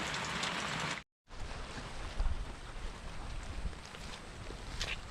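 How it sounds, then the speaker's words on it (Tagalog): Steady rain patters on a surface, a dense soft hiss close around, briefly cutting out once before continuing evenly. "Umulan po ngayon."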